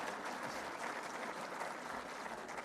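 Audience applause fills a hall during a Pakistani prime minister's speech to exporters and business leaders, a steady dense wash of many hands clapping without pause throughout.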